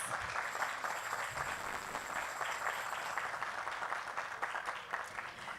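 Audience applause following a congado group performance at an evening cultural event in Araxá, a steady dense wash of clapping throughout, fairly loud and continuous with no voices standing out.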